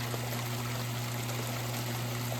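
Water streams steadily out the end of a mini highbanker, a continuous close trickle and pour with a low motor hum running underneath the whole time.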